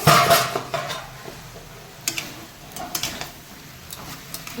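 A metal lid comes off a cooking pot of greens with prawns, giving a few light clinks and clatters against the rim over faint kitchen background noise.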